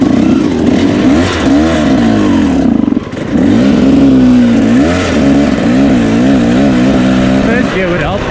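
A hard enduro dirt bike engine revs on a trail, its pitch rising and falling in repeated surges throughout, with a brief dip near the middle and close, steady engine noise under occasional talk.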